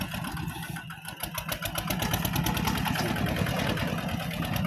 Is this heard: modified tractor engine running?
yes